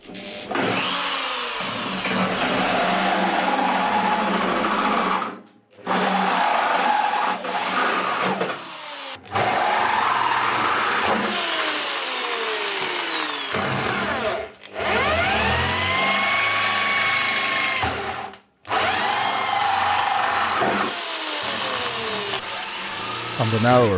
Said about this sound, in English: then used a hole saw to cut out the original shapes.